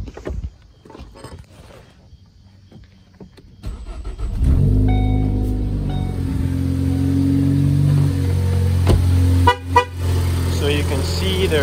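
A Ford Focus starts inside a garage after a quiet stretch with faint handling sounds. The engine catches and settles into a loud, steady idle that fills the rest of the clip.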